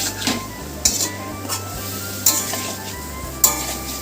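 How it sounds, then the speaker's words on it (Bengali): Potatoes being sautéed with spices and mustard in a pan, with a steady sizzle under several sharp spoon scrapes and clinks against the pan at irregular intervals, close and fairly loud. "এবার আমি মশলাগুলো দিয়ে আলুটা ভালো করে কষাতে থাকবো"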